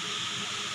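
Mustard seeds sizzling in hot oil for wheat rava upma, a brief steady hiss of frying, close and fairly loud, with no speech.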